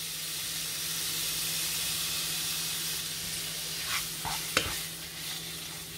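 Loud, even hiss of minced beef frying in oil in a hot pan, a dense continuous sizzle with a few scraping stirs and a clink near the end.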